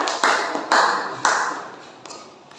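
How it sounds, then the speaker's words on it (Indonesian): A short round of applause from a small group, with several overlapping bursts of clapping that fade away over a few seconds. "Tepuk tangan untuk kita semuanya."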